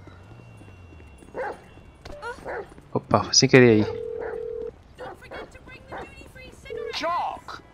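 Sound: dog barking in video game Grand Theft Auto V

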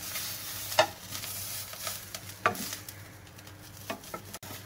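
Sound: sausage rolls frying and being flipped in a pan

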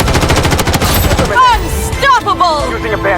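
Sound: gunfire in the video game Blood Strike

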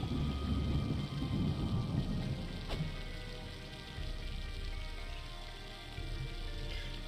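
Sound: thunder and rain in video game White Wolf

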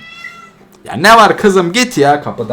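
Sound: cat meowing

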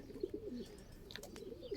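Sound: pigeons cooing

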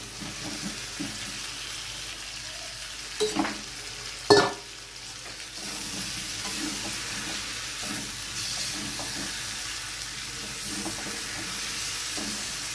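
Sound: stirring fried cauliflower and potato into frying masala

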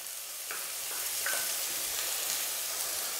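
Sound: shallots and curry leaves sautéing in a pan for egg theeyal

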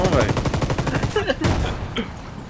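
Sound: gunfire in the video game Wildlands

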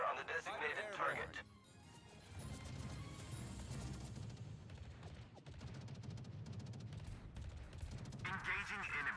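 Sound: gunfire from warships in World of Warships video game

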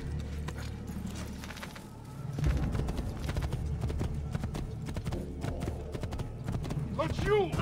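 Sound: horse hooves clip-clopping in the video game Assassin's Creed II

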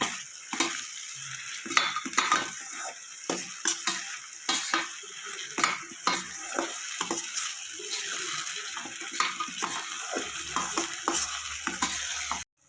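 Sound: stirring green chili paste frying for cauliflower masala

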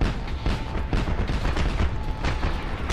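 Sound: plane crashing and exploding in the video game Just Cause 2

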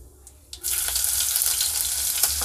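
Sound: chopped green chillies frying in hot oil with cumin

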